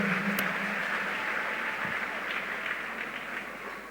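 Church congregation applauding the Lord during a French-language worship service, a dense steady wash of clapping that fades slightly toward the end, with no talk.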